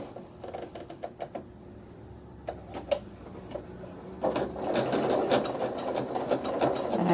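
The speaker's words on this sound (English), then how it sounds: "I have a walking foot on my machine, and I have chosen the smallest, tiniest little blanket stitch that I have" A sewing machine fitted with a walking foot sews a tiny blanket stitch along a quilt block seam, starting with sparse single clicks, then building into a steady, close, rhythmic mechanical chatter.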